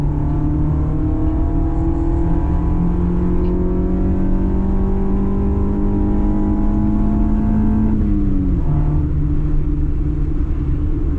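A Mini race car at speed on the Castle Combe circuit during a Mini track day, its engine droning steadily with loud, continuous rumble and a drop in pitch near the end as it eases off, with no talking.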